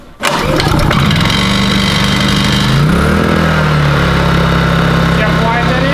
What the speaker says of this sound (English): Alright, so generator's working.